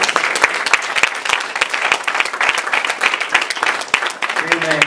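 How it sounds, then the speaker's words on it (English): A church congregation on Palm Sunday claps loudly and continuously in praise, hands striking in a dense, slightly rhythmic wave of applause that fills the room. "If you love Jesus, give him a hand clap of praise."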